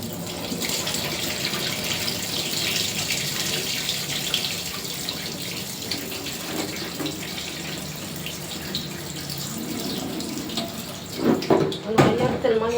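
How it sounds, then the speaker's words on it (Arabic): Molokhia leaves are rinsed under a running tap in a kitchen sink, a steady close rush of water with louder splashing and gurgling bursts near the end. "قبل ما اغسل نص الفرخه هغسل طبعا الملوخيه عشان قبل ما الحوض يتزفر هغسل الملوخيه كويس قوي"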